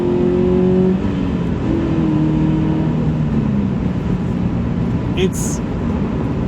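Manual Subaru BRZ pulling hard at full throttle in fourth gear after a downshift, its engine drone steady and loud from the cabin, with a rising tone and a brief shift blip near the end.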